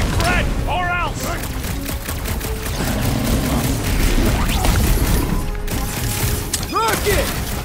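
Gunfire during a Guardians of the Galaxy video game battle, with rapid shots, crashes and blasts in a busy mix of game effects and music, loud and dense throughout.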